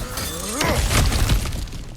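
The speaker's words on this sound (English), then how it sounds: "back to smashing through things for fun and profit" An object shatters with a sharp crash and scattering debris in God of War Ragnarok, a single brief loud smash.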